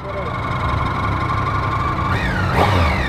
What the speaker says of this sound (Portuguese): O barulhinho do motor.